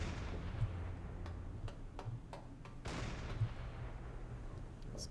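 A ship's deck gun firing in the Silent Hunter 5 submarine game, several muffled, distant booms spaced a second or so apart over a low rumbling ambient background.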